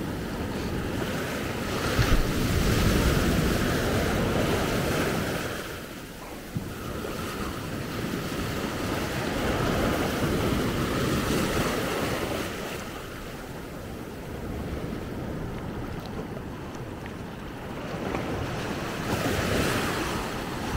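Rough Atlantic surf pounds the shore at Maspalomas, Gran Canaria, during the storm Bernard, a continuous roar of breaking waves with heavy wind buffeting the microphone, loud and steady throughout.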